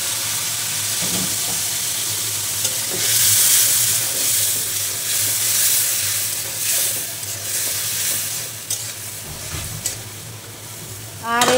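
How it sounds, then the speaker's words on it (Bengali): Water splashed into a frying potato and spice mixture in a kadai makes a steady broadband sizzle and hiss with stirring scrapes, loud and continuous throughout, a brief voice at the very end. "এখন আবার আমি সামান্য একটু পানি দিয়ে দিলাম।"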